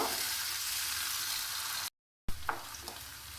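Onions browning in mustard oil in a wok, a steady close sizzle that cuts out briefly, then resumes with a few utensil scrapes and clicks.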